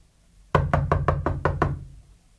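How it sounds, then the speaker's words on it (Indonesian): A sharp run of six evenly spaced knocks on a door, close and loud, starts after a brief silence and fades with a short resonant tail. "It's someone knocking at the door."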